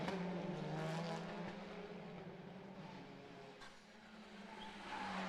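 WTCR touring cars racing at the Macau Grand Prix, with a sustained engine drone that stays steady and slightly distant, easing off midway before swelling again at the end.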